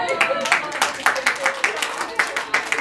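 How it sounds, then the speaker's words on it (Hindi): Scattered rhythmic clapping from a small group at a child's fifth birthday party in Mumbai, a quick run of sharp claps with voices audible underneath. "आप खुद के लिए ताली बजा लो"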